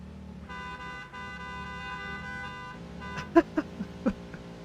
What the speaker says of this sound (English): They all have a different horn, the train and the tractor and this.